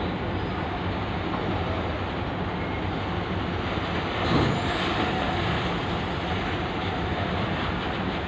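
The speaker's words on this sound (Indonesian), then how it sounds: "di belakangnya ada truk bawa sepeda listrik kayaknya atau motor listrik" Heavy trucks idle and roll at Merak port while vehicles load onto a ferry, a steady loud engine rumble with broadband harbor noise throughout and a brief louder swell midway.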